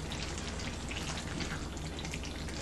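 A stuffed pepper mixture simmers in a pan with a soft, steady bubbling sizzle, quiet and even throughout with no talking.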